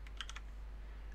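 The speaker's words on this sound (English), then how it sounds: "If I type Windows key R" Two or three quick keystrokes tap on a computer keyboard as the Windows key and R are pressed, crisp and close in an otherwise quiet room.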